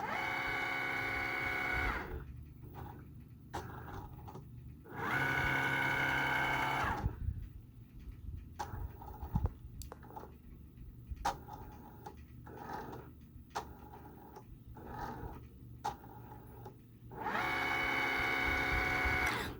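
A craft cutting machine runs a measuring pass over a design before cutting, with repeated mechanical whirring bursts of motor drive alternating with shorter clicks and movements, fairly close and steady, no talking.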